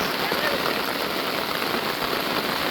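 Steady rain pours over a small village called Katragachhi, a dense, even hiss of drops on surfaces that runs without a break the whole time, fairly loud and close.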